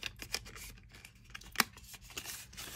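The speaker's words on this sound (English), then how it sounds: "Let's unwrap that." Packaging around a Ray-Ban Stories USB-C cable is unwrapped close up, giving quiet, scattered crinkles and sharp papery clicks with one louder snap in the middle.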